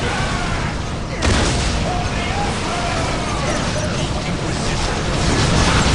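Grenades explode in the Warhammer 40,000: Dawn of War battle, a dense rumbling wall of blasts with a sharp boom about a second in. Battle noise and shouting voices mix in throughout.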